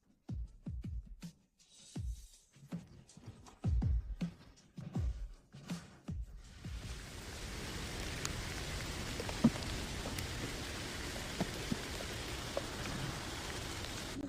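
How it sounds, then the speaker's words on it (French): After several seconds of scattered soft knocks and thumps, rain starts up and carries on as a steady, fairly faint hiss that fills the rest of the time. "C'est bon de sentir la pluie."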